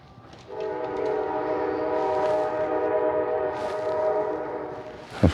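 A loud, sustained train horn sounds over the rumble of a passing train in Dayton, Tennessee, holding steady for several seconds before a sharp clatter at the end.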